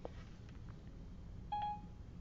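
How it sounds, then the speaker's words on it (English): A digital clock gives a single short electronic beep as it marks the time, a clear tone in an otherwise quiet room with faint background hum. "It just beeped because it was 1:44."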